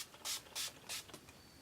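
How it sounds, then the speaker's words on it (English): Three quick hissing bursts of a fine facial water mist spray bottle, each short and close, followed by a softer fourth puff and quiet room tone. "I just spray my face with this."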